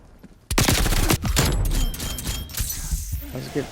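Rapid bursts of M16 tactical rifle gunfire in the Call of Duty: Black Ops Cold War multiplayer game, loud and close, with a dense crackling volley that tapers off into scattered shots and game effects.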